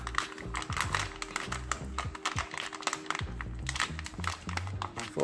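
A ration pouch holding chicken and dumplings with water added is sealed, folded over and shaken, giving close, busy crinkling and rustling of plastic with quick taps throughout.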